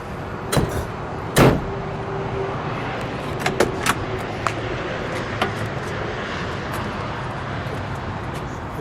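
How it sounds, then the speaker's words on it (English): Trunk lid of a red 1964 Oldsmobile F-85 Cutlass 442 convertible slams shut in one solid, close thud just after a lighter click, then a steady quiet background hiss with no talking. "We can shut that trunk"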